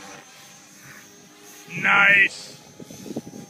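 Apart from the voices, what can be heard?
Gaui X4ii radio-controlled helicopter flying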